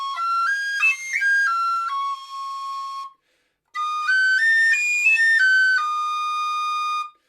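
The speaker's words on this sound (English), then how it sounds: "I get a C natural very nicely cross-fingered on this whistle like that." Tin whistle played in clear, bright runs of notes that settle on a held cross-fingered C natural, two phrases split by a short pause, solo and close.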